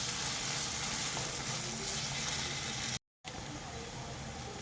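Red chilli paste being stirred into paneer fried rice gives a continuous close sizzle and frying crackle, interrupted by a brief silent gap near the end and then resuming.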